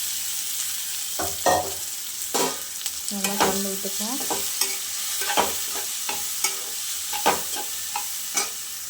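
Ingredients for egg chapati sautéing in a pan, a soft continuous sizzle broken by repeated scrapes and taps of a spatula stirring, fairly quiet and with no talking.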